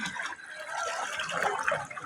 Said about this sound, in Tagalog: yung tubig dito ay flowing siya.